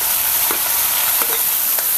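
Chopped tomato tossed into hot oil in a pan for a spicy village-style ridge gourd curry, giving a steady sizzle with a few stirring scrapes.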